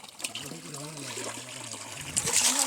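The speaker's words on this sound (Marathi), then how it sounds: "आता इकडे टोप धुतला जातात पाण्यामध्ये" A cooking pot is rinsed in stream water on a Sahyadri mountain trek, giving a soft trickling and sloshing of water, close and moderate in volume, with a voice talking briefly over it and a brighter splash near the end.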